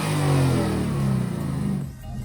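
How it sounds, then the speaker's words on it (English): A Mustang fitted with an Air Raid cold air intake revs its engine a couple of times nearby, a loud sustained roar that fades at the end. "So we just did a couple of revs."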